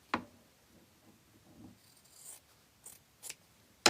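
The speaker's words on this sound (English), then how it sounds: "I need my bigger scissors, I think I've decided, because it's going to be easier to trim it." Large scissors trim quilt fabric in a quiet room, a few faint snips and soft rustles of cloth spread over several seconds, with no talking.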